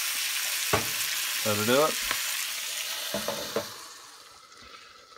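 Worcestershire sauce hisses and sizzles loudly in a hot cast iron pan of cabbage, a bright steady crackle that fades toward the end, with someone talking briefly over it.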